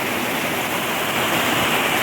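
River water rushes and flows steadily close by, a dense, even roar that stays unbroken throughout with no voices over it.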